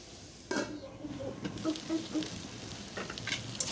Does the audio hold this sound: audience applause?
no